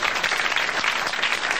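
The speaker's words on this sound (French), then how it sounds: "vous l'applaudissez très fort" Studio audience applause on a French radio comedy panel show, a dense, even burst of many hands clapping close and loud without a break.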